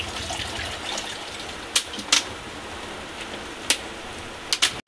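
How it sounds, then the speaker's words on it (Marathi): Water is poured into a pan of masala for a prawn gravy, a steady wet gush running throughout with a few sharp splashy spikes, close and fairly loud with no talk. "अजून मी पाणी टाकते ह्याच्यामध्ये, अजून मी पाण्याचा वापर करते"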